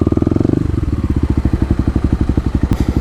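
Kawasaki KLX250 motorcycle engine while riding, a loud close rhythmic single-cylinder thumping that slows slightly after the first half-second and then pulses steadily, with a brief click near the end.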